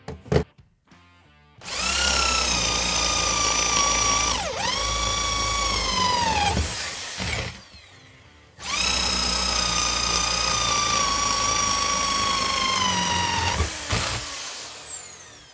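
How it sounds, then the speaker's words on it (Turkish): A burned-out hammer drill whines loudly in two long bursts, its pitch sagging under load and rising again, with a short pause between runs. "Şuna bak, matkap yandı ya"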